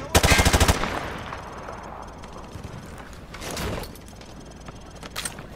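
Rapid automatic gunfire bursts loudly at the start in Call of Duty Modern Warfare 2 Remastered, followed by quieter mechanical sounds and another short burst.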